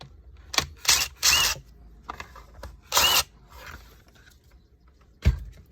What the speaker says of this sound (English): So first thing is remove the 4 screws here, and we'll get this cover off.